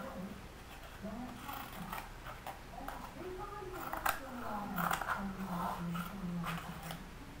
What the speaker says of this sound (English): I'm going to cut 2 black squares